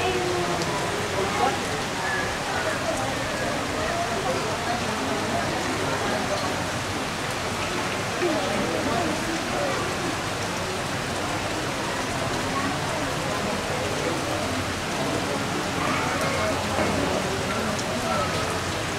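Heavy typhoon rain pours down steadily in a village, a dense unbroken hiss of drops drumming on surfaces with no letup across the whole stretch.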